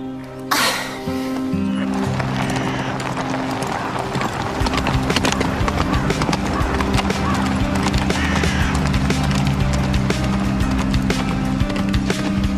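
Horse hooves clip-clop steadily and loudly through the whole stretch at a riding centre, with a horse whinnying briefly near the start and faint voices in the background.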